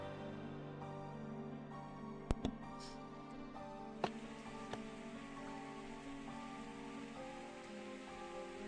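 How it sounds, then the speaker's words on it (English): Rain from the Steins;Gate visual novel, a soft steady patter with a few sharper drip clicks over faint background music. "I suddenly hear the sound of rain"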